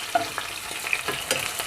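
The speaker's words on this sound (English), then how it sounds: "You start by putting in some diced onions into the frying pan." Diced onions sizzle and crackle in a hot frying pan for Nigerian meat pie filling, with light scraping of a utensil stirring them, fairly close and steady.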